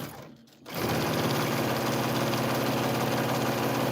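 A sewing machine stitches a quilted placemat, starting up after a brief pause and then running in a steady, fast, loud whirring rattle with no talking.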